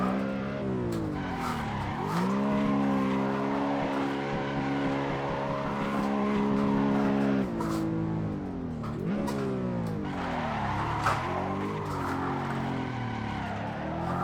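Car drifting in the racing sim Assetto Corsa, engine whining and revving in long sweeps as the tires squeal continuously through linked slides, with brief dips between transitions.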